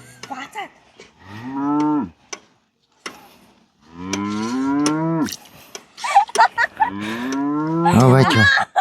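Cow mooing during milking, several long loud close lowing calls with short pauses between them and a few clicks and knocks in the gaps.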